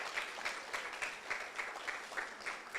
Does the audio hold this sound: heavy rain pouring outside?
no